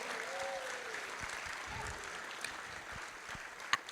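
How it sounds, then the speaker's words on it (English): Crowd applause for the volunteers at the close of a community forum on free school meals, sustained dense clapping from a large audience in a hall, steady throughout with a sharp louder clap near the end. "one final round of applause for all the volunteers that got you here today."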